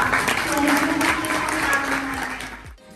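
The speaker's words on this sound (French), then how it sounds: "j'aimerais bien que vous applaudissiez toutes ces femmes qui sont là" At an International Women's Day event at a Dakar business school, an audience applauds the women present. The clapping is full and sustained before thinning out and stopping abruptly near the end.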